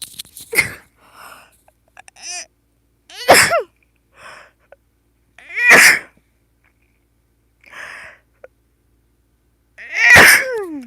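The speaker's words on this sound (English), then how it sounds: "I have to sneeze." A single sharp sneeze among quieter breathy sniffs and throat noises, with a few separate bursts spaced out over several seconds.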